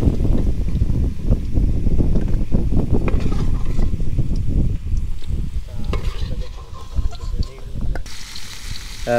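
Onions tipped into hot oil in a pan at an outdoor picnic cookout on a sandy river char, frying with a steady, loud sizzle and crackle, plus wind buffeting the microphone and occasional clattering near the end.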